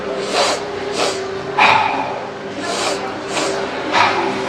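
Rhythmic breathing repeats in pairs: two quick sniffing inhales through the nose followed by a longer, airy exhale through the mouth, close and clear.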